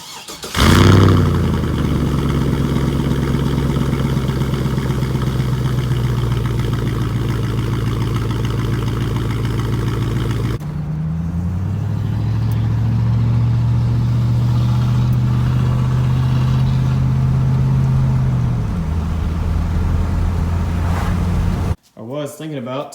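A loud car engine running through a straight-pipe exhaust with catalytic converters but no muffler, droning steadily at idle with a rev change midway before cutting off near the end; talk is heard over it.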